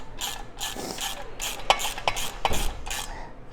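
A ratchet torquing bolts on a rear bumper of a Lexus LX470 Land Cruiser, several quick bursts of close metallic clicking in an uneven rhythm, with a few heavier knocks, no talking.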